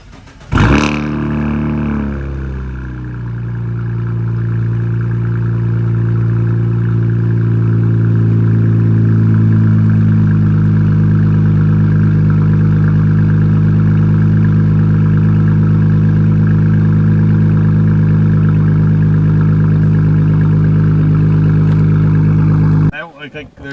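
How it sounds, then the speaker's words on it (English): Modified Cadillac ATS-V engine starting up, revving briefly, then settling into a loud, steady, rumbling idle close by, with turbo whooshes and a strong low drone that cuts off near the end. "like you can hear all the turbo noises and everything"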